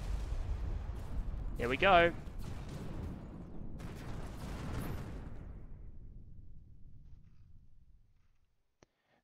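Missile impacts striking warships in the space strategy game Terra Invicta, a rumbling series of explosive bursts with one sharp crack near the start, fading to silence, with someone talking over them.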